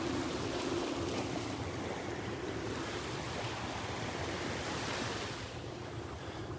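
Calm ocean surf at Delnor-Wiggins beach, a steady broad wash of small waves with some wind buffeting on the microphone, continuous and moderately loud with no talking.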